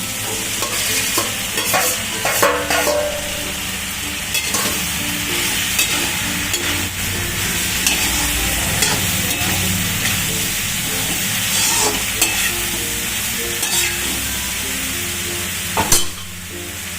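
Eggplant frying with tomato in a pan while being stirred, a steady loud sizzle with scraping stirs and occasional clinks throughout, with no talking.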